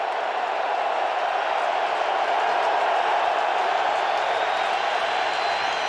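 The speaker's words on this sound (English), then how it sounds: "Crowd has come to life." A large football stadium crowd at an NFL game between the Bengals and Ravens sends up a dense, continuous roar of cheering that holds steady and loud throughout, with no break.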